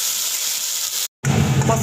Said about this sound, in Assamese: মছলাখিনি ভাজিছিলোঁ যে